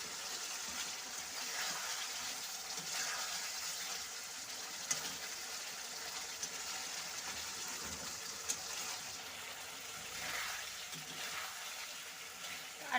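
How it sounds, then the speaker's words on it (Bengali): Water is poured into a pan of egg curry, a steady hiss and gush of liquid running close and fairly loud throughout, with a few faint clinks along the way. "তো এবারে আমি একটু কিন্তু হালকা পরিমাণে জল দিয়ে দেব"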